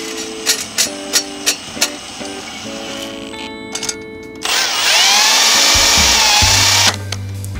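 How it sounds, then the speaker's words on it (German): A cordless screwdriver drives safety screws into a boat propeller, with several short ticking clicks, then a loud sustained whirring run lasting a few seconds, close up and without talk. "So, jetzt schraube ich das einfach mal, weil es ja Sicherheitsschrauben sind."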